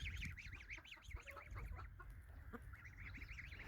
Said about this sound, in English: So I'm very happy that we have got geese